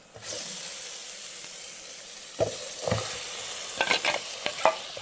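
Prawn biryani sauce is stirred into rice in a rice cooker, a soft hiss followed by several wet scraping stirs and clinks toward the end, fairly quiet with no speech.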